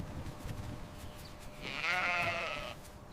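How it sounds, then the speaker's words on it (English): A freshly shorn sheep at a wool farm gives one clear, drawn-out bleat that rises briefly above quiet farm background. "After shearing, sheep feel lighter and cooler."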